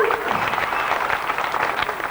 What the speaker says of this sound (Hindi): एक बार तालियां इनकी मम्मी के लिए भी प्लीज।